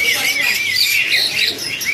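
An Asian pied starling calls at a bird market, repeated shrill whistling squawks in quick succession amid a busy, noisy crowd backdrop, fairly loud and near.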